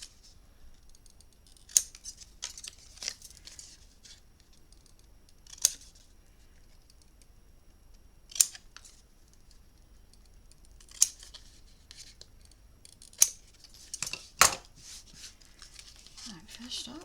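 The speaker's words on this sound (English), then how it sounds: "now I'm going to just cut. Just cut those corners off." Scissors snipping the corners off paper for a farm-themed mini album journal, a series of crisp, close cuts spaced a few seconds apart with a quick cluster near the end, over a quiet background.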